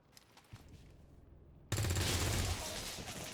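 Rapid bursts of gunfire from the turn-based video game XCOM 2 break out suddenly after a quiet stretch, a loud sustained fusillade continuing to the end with no speech.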